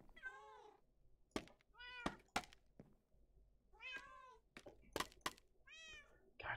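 A cat meows loudly several times in drawn-out, wavering cries, interspersed with sharp knocks and thumps, close and clear with no talking.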